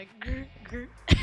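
A single sharp cough from a player during a Cyberpunk tabletop role-playing session bursts out near the end, close and fairly loud, after a stretch of speech.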